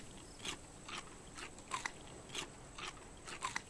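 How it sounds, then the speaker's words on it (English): A character eats food in the survival game Raft, with about eight crisp bites and crunches coming at a steady rhythm. They are moderately close over a faint background hum, with no talk. "And just munch all that down"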